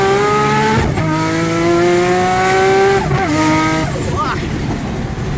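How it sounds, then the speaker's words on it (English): A turbocharged car making about 1000 brake horsepower accelerates hard. The loud, close engine and intake note climbs in pitch, drops sharply at a gear change around the one-second mark, then climbs again and shifts once more near three seconds. "You can hear a lot of intake noise."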